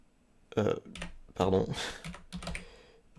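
A command typed on a computer keyboard, short bursts of close key clicks in quick clusters, mixed with a person talking over them.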